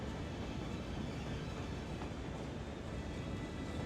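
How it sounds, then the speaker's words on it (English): A monorail train rolls through a busy metro hub in the city-building game Cities: Skylines, a steady, continuous rumble with no voices over it. "Really busy lane here on the Metro Monorail train hub."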